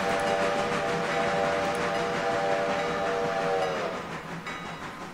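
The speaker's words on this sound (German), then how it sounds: "wenn man die Kamera bewegt, während die Pfeife pfeift" A steam locomotive whistle in the train game Railroader blows one long steady harmonic blast for about four seconds and then cuts off, over constant rumbling rail and engine noise.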